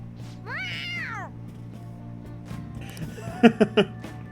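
A cat meows in the Persona 5 Royal video game, one drawn-out mew followed by a few short chirping meows, heard over soft game background music.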